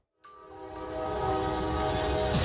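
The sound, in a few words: freight train ripping through a cargo truck on tracks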